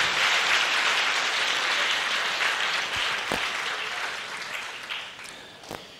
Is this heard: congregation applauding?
yes